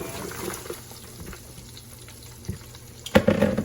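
Chopped small cabbage is tossed into butter in a frying pan, with quiet stirring and rustling followed by a sudden burst of loud sizzling near the end.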